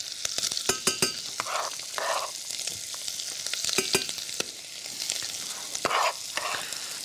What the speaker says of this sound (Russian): Вот как хорошенько сейчас обжаривается грудинка.